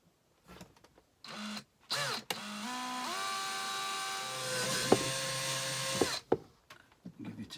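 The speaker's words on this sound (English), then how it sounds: "So I'm going to drill the 8mm hole." A power drill whirs steadily for about three seconds as it bores an 8mm hole in a caravan, its pitch settling and holding, framed by brief clunks and handling noises before and after.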